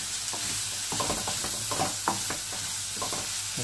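Mushrooms sautéing for spicy mushroom fried rice, a quiet steady sizzle in a pan broken by irregular scraping and stirring clicks of a utensil, close and with no talking.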